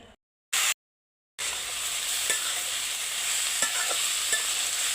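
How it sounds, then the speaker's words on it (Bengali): Young jackfruit pieces frying in hot oil in a wok, a steady close bright sizzle with occasional stirring clicks, preceded by brief silences and a short burst at the start. "কড়াই তেল দিয়ে দিয়েছি, এখন আমি এঁচড়গুলো ভেজে নেব।"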